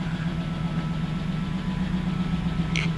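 A car engine idles with a loud, rough, throaty rumble, steady and unmuffled after two of its five mufflers were removed, with a brief faint squeak near the end.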